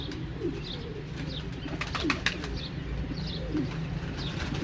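Soft coos from breeding pigeons repeat against steady background noise, broken by a brief burst of wing flapping midway; no one speaks.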